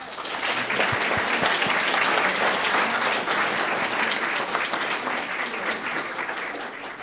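An audience at a visiting artist talk breaks into sustained applause, a loud, even wash of many hands that swells and holds before slowly easing off, with no speech over it.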